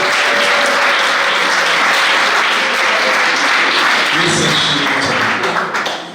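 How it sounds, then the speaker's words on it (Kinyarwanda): A church congregation bursts into loud, sustained clapping, dense and continuous, with a faint trace of voices mixed in before the applause begins to taper at the end. "duhe Imana amashyi menshi"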